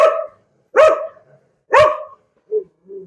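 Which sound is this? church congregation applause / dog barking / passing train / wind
dog barking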